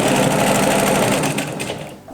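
A sewing machine stitches patchwork fabric in one steady, loud whirring run that tapers off near the end, with no talking.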